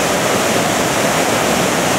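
Water flows steadily beside a huge boulder outdoors, a loud, constant rushing wash with no breaks and no voices.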